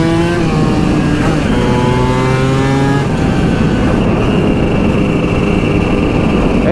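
A motorcycle engine revs up and down, its pitch climbing and falling in steady sweeps, loud and close throughout, running slightly rich in the midrange.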